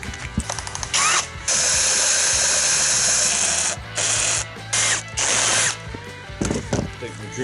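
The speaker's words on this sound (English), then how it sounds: "Drill's just about to give out. Sounds pretty broken to me." A failing power drill, boring fresh holes for car wheel arch liner clips, whines loud and close in repeated bursts, cutting in and out with a rough, strained mechanical rattle.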